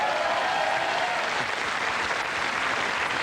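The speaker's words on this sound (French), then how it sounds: "Rien que pour ça, vous pouvez m'applaudir." A studio audience on a French TV variety show breaks into sustained applause, a broad, even wash of clapping that holds steady throughout with no voices standing out.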